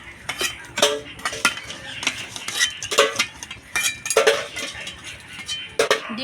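A metal pot of boiled eggs is lifted off a stove, giving a run of sharp clanks and scrapes of metal on metal, close and irregular, with no talk.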